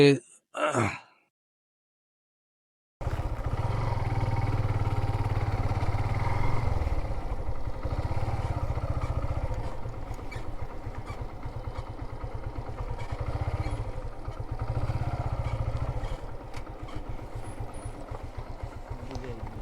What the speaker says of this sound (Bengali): আমি বিভিন্ন জায়গায় বাইক নিয়ে যাব